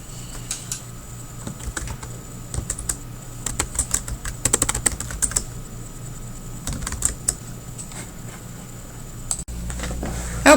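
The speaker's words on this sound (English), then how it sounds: "I will type the second paragraph." Typing on a computer keyboard while working on a document: rapid, close key clicks in uneven bursts with short pauses between them, and a faint steady hum underneath.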